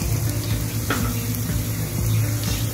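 Chopped beans going into sautéing onions in a pan while cooking aviyal: continuous loud close sizzle with brief bursts of hiss and light stirring scrapes, no talk.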